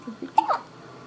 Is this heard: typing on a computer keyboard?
no